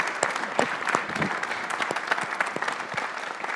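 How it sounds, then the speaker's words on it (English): Attendees at a panel discussion on markets and democracy give a round of applause for distinguished guests, moderately loud, scattered individual claps standing out within steady clapping. "I'd ask everyone to join me in a round of applause and deep thanks to our distinguished guests."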